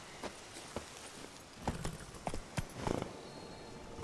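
Hooves of the horse Roach in The Witcher 3: Blood and Wine, heard as scattered clip-clop hoof strikes that start sparse and grow quicker and denser near the end, moderately quiet over faint ambient game sound.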